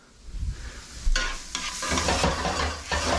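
Onions frying gently in a pan while making a chopped cheese, a steady close sizzle with stirring scrapes that grows louder partway through, no talk.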